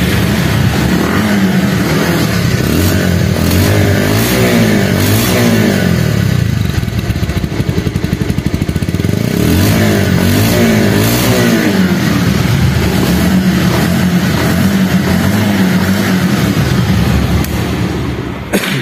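A second-hand Pulsar double-disc motorcycle starts up and is revved repeatedly, its engine rising and falling in loud close bursts over a steady idle before cutting off at the end.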